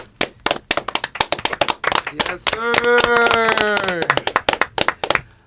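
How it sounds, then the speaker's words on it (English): Several people clap their hands in short, sharp bursts, interrupted midway by a sustained sung or shouted voice, with brief talk mixed in. "Everyone clapping hands."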